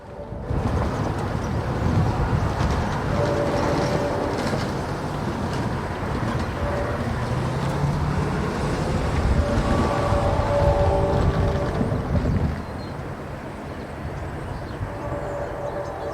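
Freight train Q007 rumbling steadily past near Bergen, a loud continuous roar of wheels and cars with faint squeals, dropping slightly toward the end as the last cars go by.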